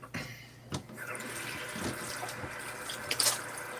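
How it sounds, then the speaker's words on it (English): Water from a kitchen tap splashes steadily over hands being washed in a sink, with soft splatters and brief louder gushes, close by and alone. "Let me wash my hands."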